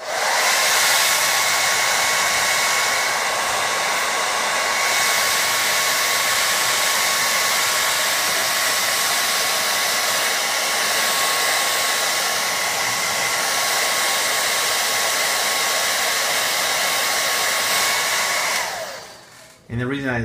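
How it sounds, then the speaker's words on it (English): A hair dryer runs continuously at close range for about twenty seconds with a steady, loud whooshing drone, used to heat glue on Nike Mag sneakers during mod prep, then cuts off abruptly at the end. "when you're using your hairdryer too is when you're working it through, it's heating up the knife at the same time"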